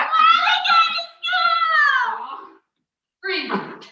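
A human performer at a virtual college improv show imitates a cat, giving two long, wavering meows close to the mic, a short pause, then a third shorter meow.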